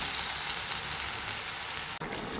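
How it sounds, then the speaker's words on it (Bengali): Curry being sautéed in a pan gives a loud, dense, continuous sizzle close up, briefly cut off near the end before resuming, with no voices. "তো আমার এখন এটা কষানো চলছে, দেখো"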